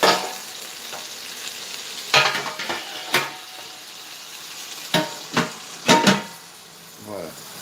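Duck legs frying and browning in fat for confit, a continuous soft sizzle with several sharp clanks and scrapes of a utensil against the pot, faint background voice.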